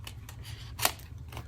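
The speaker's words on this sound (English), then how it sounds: "just take your scissors, and where this is sticking out right there, just trim it off" Scissors snip through craft paper while trimming a stamped card, a few soft cuts with one sharper close snip near the middle, quiet and alone.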